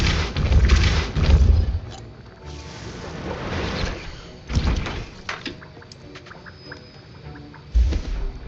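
Depulso force spells cast in Hogwarts Legacy land as heavy, booming thuds, a few separated impacts with rumbling low ends and quieter magical swishes and clatter between them.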